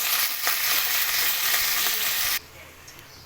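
Onions frying in hot oil make a loud, steady sizzle that fills the first two seconds or so, then drops sharply to a quieter crackle.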